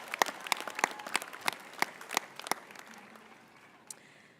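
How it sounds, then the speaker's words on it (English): Scattered claps from an audience at a 2024 commencement ceremony, thanking performers: about a dozen distinct, fairly loud handclaps in a loose rhythm that thins out and fades, with one last clap near the end. "Another round of applause for our performers today."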